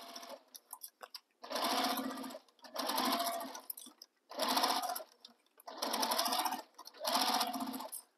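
A domestic sewing machine stitches a tote bag in five separate bursts of rapid needle chatter, each lasting about a second with short pauses between, close and fairly quiet.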